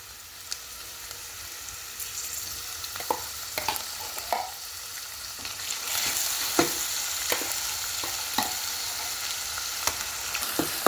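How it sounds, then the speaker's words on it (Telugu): Chana dal fries with onion, tomato and ginger-garlic paste in a pan, a soft steady sizzle punctuated by repeated scraping stirs and spoon knocks, growing slightly louder midway, with no voices. "ఇప్పుడు మనం ఉల్లిపాయ, టమాటా, అల్లం వెల్లుల్లి వేసుకున్న పేస్ట్ వేసేసుకుందాం."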